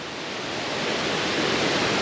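Kroeng Krawia Waterfall in Khao Laem National Park, Thailand, gives a dense, steady broadband rush of falling water, close and unbroken, with no voices.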